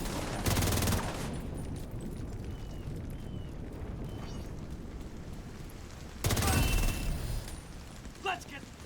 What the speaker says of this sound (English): I shoot enemies.